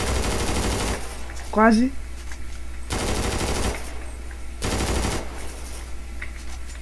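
Automatic gunfire in FiveM, the GTA V roleplay game, during a BOPE police raid on a drug lab. Three loud bursts of about a second each come at regular intervals, with a voice briefly between them.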